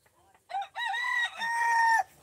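A chicken being carried in a bag gives a loud, drawn-out call close by, rising and held like a rooster's crow, after faint background sounds.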